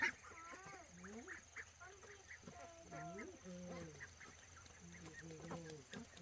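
Ducks quack and honk repeatedly at close range while a grandmother chops bananas to mix with bran for them, the calls coming in irregular bursts over steady background hum and some talk.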